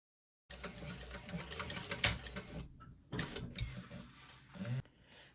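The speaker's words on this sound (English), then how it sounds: "Now I'm going to baste these on. I'm going to back stitch at the beginning and end." A sewing machine basting a handbag piece with back stitching, running in steady mechanical bursts with a short pause near the middle and a stop before the end, close and fairly quiet.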